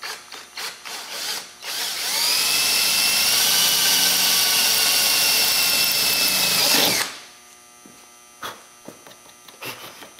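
A power drill bores through the sheet metal of a 1998 Chevrolet S10 during a spotlight install, a loud, steady whine lasting about five seconds before stopping abruptly, with quiet handling clatter after.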